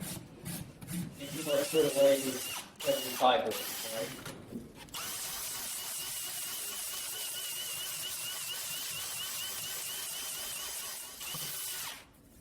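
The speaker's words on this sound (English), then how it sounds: "find your line with the rasp, define your line with the buffer" A power buffer grinds and smooths a horse's hoof wall with a rough, rasping whir. Brief scraping strokes come first, then a steady continuous buffing of moderate loudness that runs for several seconds before stopping.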